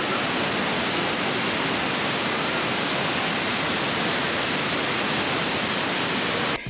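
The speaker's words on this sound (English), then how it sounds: "I'll play a clip of me looking at the waterfall, just the raw video" A steady, dense rushing roar of a waterfall in Nikko, Japan, constant and fairly loud throughout, with no voices.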